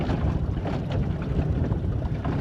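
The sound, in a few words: boat motoring over a lake wreck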